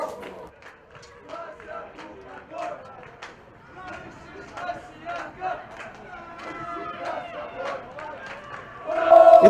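Football crowd at a Rossiyanka versus CSKA Moscow match, with supporters chanting and shouting in bursts that carry from a distance across the stadium.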